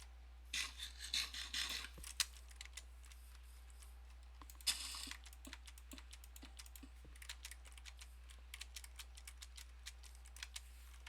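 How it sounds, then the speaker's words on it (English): Close, quiet keyboard typing comes in quick bursts of clicks with a rubbing shuffle early on, then sparse scattered key taps over a low steady hum. "Sound of keyboard is pleasant."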